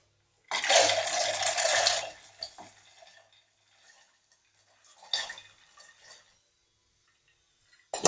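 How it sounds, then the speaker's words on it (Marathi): Peanuts poured into water in a pressure cooker, a rattling, splashing pour lasting about a second and a half, then a few scattered clinks and a second, shorter pour, all close by and fairly quiet. "या कुकरमध्ये आता हे शेंगदाणे सर्व टाकून घ्यायचे आहेत"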